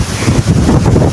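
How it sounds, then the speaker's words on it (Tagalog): Strong gusty wind buffeting the microphone at a hilltop cafe in Binangonan, Rizal, a loud continuous rumble with no talk. "malakas yung hangin"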